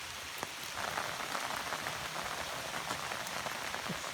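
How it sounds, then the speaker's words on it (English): Steady rain falls on a lake in South Carolina, a dense, even patter of drops that fills the whole stretch at a consistent loudness, with no one speaking. "It's quite a rainy day today"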